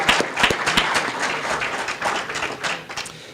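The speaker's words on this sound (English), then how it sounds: "I want to give them a round of applause today." Meeting attendees clapping for the Road Commission, a short burst of dense applause from a small indoor crowd that starts strong and slowly thins out.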